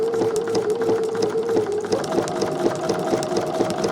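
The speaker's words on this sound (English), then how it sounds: "I'm going to back stitch a couple stitches, and then I'm going to start stitching forward." A sewing machine stitches close up at a steady, rapid rhythm, first back stitching a few stitches then running forward, a continuous mechanical whir with regular ticking needle strokes.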